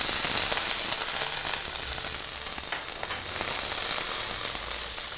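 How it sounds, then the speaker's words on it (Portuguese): Onion sautés in hot toasted sesame oil for a rice-noodle yakibifum stir-fry, making a continuous bright sizzle that stays fairly even throughout, with no talking. "Vou começar com esse óleo para poder então saltear primeiramente a cebola e a proteína."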